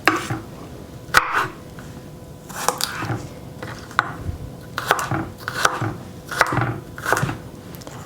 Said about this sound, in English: do a bit of chopping